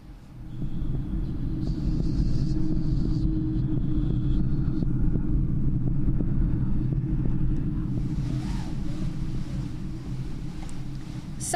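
Storm in a horror audio drama, a heavy continuous low rumble with wind noise rolling outside, loud and steady throughout with no voices over it.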